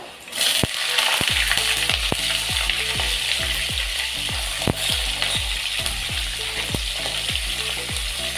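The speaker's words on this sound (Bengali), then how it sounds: "কাঁচা লঙ্কা দিয়ে হালকা এটাকে নাড়িয়ে নেব" Slit green chilies frying in hot oil in a pan, a steady loud sizzle broken by a regular series of sharp scraping knocks as a spatula stirs them, with no talk.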